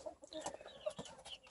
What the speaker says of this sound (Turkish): Bunlar 20 günlük civcivler.